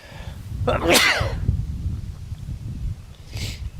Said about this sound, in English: with the sneezing